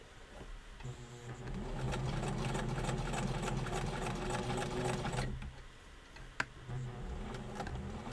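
A sewing machine back-stitches a seam on a reusable fabric face mask, running in a steady rapid mechanical whir for several seconds, pausing briefly with a single sharp click, then resuming close and clear.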